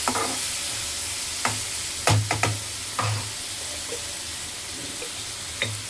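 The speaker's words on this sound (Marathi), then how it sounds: "तर ह्याच्यामध्ये मी टाकते टमाटर. व्यवस्थित मिक्स करून घ्यायचं आहे." Chopped tomatoes being stirred into sizzling fried onions for pav bhaji: a continuous frying hiss broken by several scraping, knocking spoon strokes against the pan.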